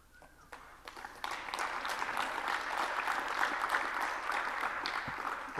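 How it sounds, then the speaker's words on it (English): Conference audience at a software developer session clapping in appreciation, applause building from a few scattered claps into a sustained crowd clapping, moderately loud from across the room. "thank you for clapping"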